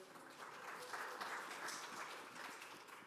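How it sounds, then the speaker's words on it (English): A church congregation at a worship service gives a round of applause, faint and diffuse, a soft continuous patter heard as if from a distance for about three seconds. "Round of applause for Zaire."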